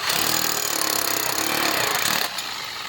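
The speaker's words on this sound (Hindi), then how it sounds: "इस ड्रिल की मदद से ही टाइट करेंगे।" A power drill runs loud and steady as it tightens a nut on a LED TV wall mount, whirring continuously with a grinding edge before easing off near the end, close up with no talking.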